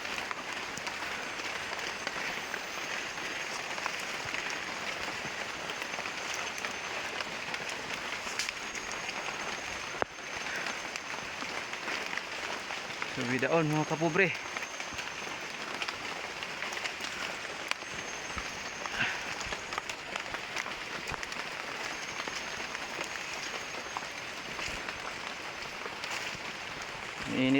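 Steady rain patters on and around a tunnel, a continuous broadband hiss that runs the whole time with a brief louder burst near the middle, while someone speaks over it.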